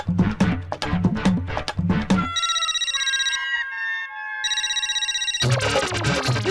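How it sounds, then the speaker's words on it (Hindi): A telephone rings in a steady electronic trill for a few seconds, framed by louder busy music before and after. "भिड़े भाई फोन क्यों नहीं उठा रहे?"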